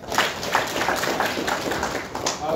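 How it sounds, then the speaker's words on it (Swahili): Mourners at a funeral body viewing clapping together, a dense, steady patter of many hands applauding at close range with a faint murmur behind it. "Asante, pigeni makofi tena."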